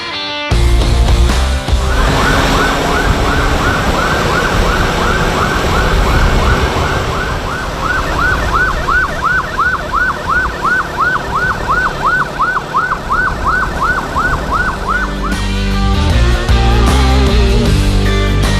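A loud ambulance siren wails in a fast repeating yelp for many seconds, close by, over the rumble of Jakarta road traffic during an ambulance escort.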